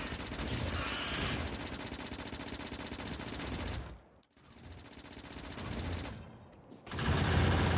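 Factorio turrets in the Rampant mod hammer away at alien nests with loud continuous automatic fire. It breaks off briefly twice, then returns even heavier at the end.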